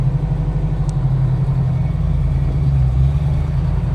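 A 1968 Ford Mustang engine idles close by, giving a steady, even low rumble with a smooth pulse that holds unchanged for the whole few seconds, with no voices over it.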